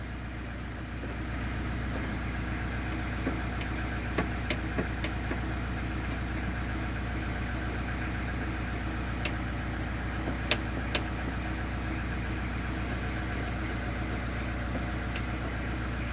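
A Peugeot 306 diesel turbo car engine starts up and settles into a steady, rough idle with a low knocking rumble and occasional faint ticks, close and continuous.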